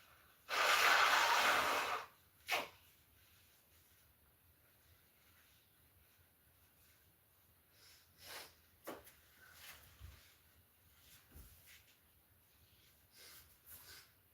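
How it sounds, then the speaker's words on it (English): One loud, forceful nose blow up close, lasting about a second and a half, followed by a few quieter sniffs and rustles. "Sorry, guys, I'm just blowing my nose."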